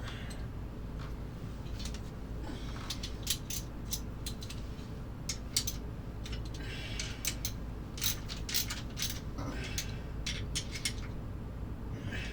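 A ratchet tightens the cylinder head on a Reedjet engine while the piston is set for ignition timing, giving bursts of quick close mechanical clicking over a low steady background.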